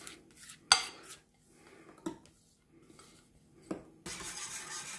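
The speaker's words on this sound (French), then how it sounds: "Et je vais comme ça touiller à feu moyen jusqu'à ce que ma crème pâtissière épaississe." Pastry cream of egg yolk, sugar, cornstarch and vanilla is stirred in a pan over medium heat, with sharp utensil clinks and scrapes against the pan separated by quiet gaps, then a steadier scraping rub at the end.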